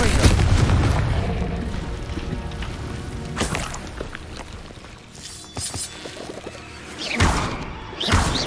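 A Confringo blasting spell goes off in Hogwarts Legacy, giving a few sharp, booming fiery blasts around the middle and near the end, set against steady game ambience.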